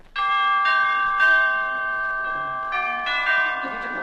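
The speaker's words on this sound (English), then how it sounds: "Well, I'll ring the bell." A doorbell chiming in an old radio comedy scene, bright ringing bell tones struck repeatedly in a clear sustained series, close and loud with no talk over it.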